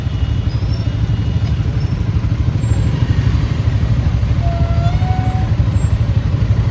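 A motorcycle riding through traffic, its engine giving a continuous, close, pulsing low rumble with slight swells, other vehicle noise mixed in around it.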